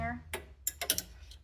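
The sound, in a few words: metal coat hanger wiggled down a BMW convertible drain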